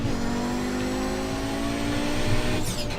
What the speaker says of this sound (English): the sound of the turbo is just amazing